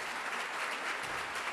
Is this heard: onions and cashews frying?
no